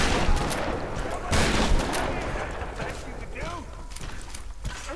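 Shotgun fire during Tomb Raider combat, several sharp broadband blasts in the first seconds followed by clattering mechanical sounds and scattered game noise, with a voice speaking at times.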